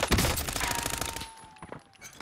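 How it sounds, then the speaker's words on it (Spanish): Rapid automatic gunfire in the Call of Duty Warzone battle royale, a dense close burst of shots for about a second that thins into a few scattered distant shots. "No dejan de disparar."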